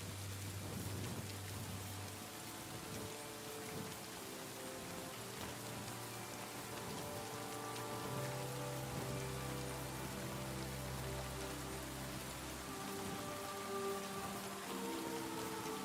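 Steady rain falling in the medieval video game Kingdom Come: Deliverance 2, a dense continuous patter alone at moderate level with a low droning hum and faint tonal notes running beneath it throughout.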